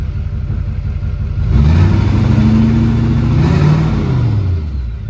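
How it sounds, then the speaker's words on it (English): A large LB7 Duramax diesel truck engine with a 5-inch straight pipe exhaust idles with a deep rumble, then revs up loudly, holds a high roar for a couple of seconds, and drops back toward idle. "I'm gonna see what happens when I give it a little bit of gas"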